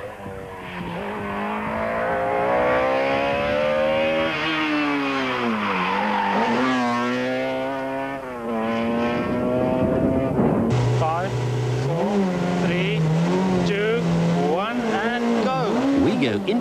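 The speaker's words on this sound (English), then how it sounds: "Serge and Vito get right down to business and push the Conquest through the stage in a winning time of 2 minutes and 27 seconds." Mitsubishi Conquest rally car at a 1995 Volkswagen rally stage, engine wailing loudly as it revs up and shifts through the gears over and over, with a break in the middle and a commentator talking over the noise.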